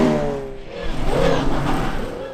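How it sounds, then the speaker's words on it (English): A 2-litre rear-wheel-drive Ford Fiesta rally car runs a stage at the Aghadowey winter rally, its engine droning loud and near for a couple of seconds, pitch rising and holding steady, with no talking. "Next up we find the 2-litre rear-wheel drive Fiesta of the Donegal drifter Ryan Hunter."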